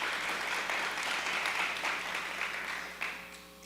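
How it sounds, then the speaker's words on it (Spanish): A forum audience at a sustainable finance event breaks into a short burst of applause, moderately distant and dense, tapering off toward the end. "Otro aplauso, muy bien."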